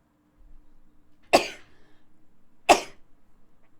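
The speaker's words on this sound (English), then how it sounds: "Oh no, she spread her sneezes to me." Two sharp sneezes, about a second and a half apart, close and loud against a quiet background.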